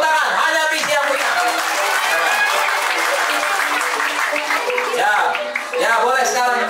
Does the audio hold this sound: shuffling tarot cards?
no